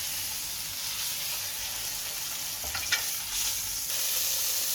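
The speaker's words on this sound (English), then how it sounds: "Okay, now we're trying to just get a nice golden brown sear on" A saddle of lamb sears in butter in a hot pan, giving a steady, close hiss and sizzle that holds evenly throughout with a few faint pops.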